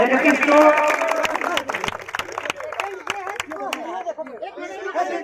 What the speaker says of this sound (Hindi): तालियां बजा दो भाई सब लोग।